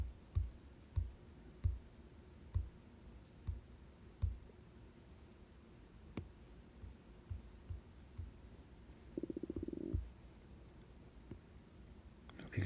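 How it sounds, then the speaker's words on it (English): A quiet stomach gives soft low thumps at irregular intervals, then a short bubbling gurgle near the end, heard close and alone. "Hope you guys can hear my stomach."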